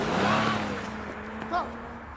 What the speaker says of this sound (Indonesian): Jagyong segera melarikan mobilnya